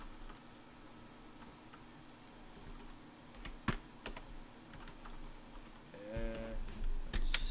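Soft clicks of typing on a computer keyboard, scattered and irregular, close by over a low background hum, with a few sharper key taps.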